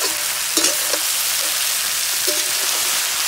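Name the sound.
frying broccoli and cauliflower in a pan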